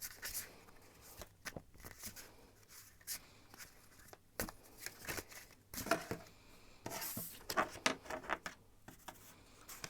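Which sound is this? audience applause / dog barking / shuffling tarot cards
shuffling tarot cards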